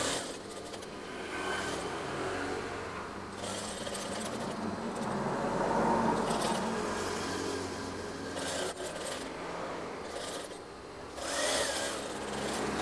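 Folded curtain fabric runs through a sewing machine in bursts of steady mechanical whirring and needle chatter, pausing between runs, with a brief break of quieter handling noise.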